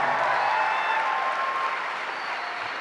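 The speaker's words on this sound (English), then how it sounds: "that deserves a round of applause" Convention crowd at a 2014 Comicpalooza Stan Lee panel applauds, a continuous broad patter of many hands at moderate loudness that eases a little, with faint voices and tones mixed in.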